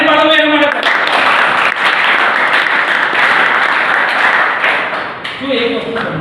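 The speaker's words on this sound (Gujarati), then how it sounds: "તાળી પાડો એના માટે." A live audience bursts into sustained clapping after being prompted, loud and dense throughout, with a voice speaking briefly at the start and end.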